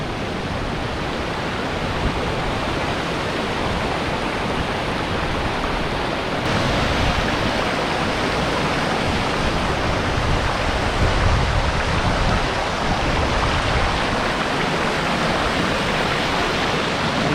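A waterfall roars loud and steady up close, a dense broadband rush of falling water that never lets up, with no voices over it.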